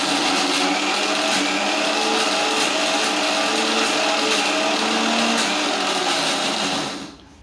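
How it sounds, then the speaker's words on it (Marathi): Mixer grinder whirring as it grinds a dry masala blend for veg Kolhapuri without water, a loud continuous motor drone that holds steady for several seconds, then winds down and stops. "सर्व मसाला हा मिक्सरमधून मी बारीक करून घेणार आहे"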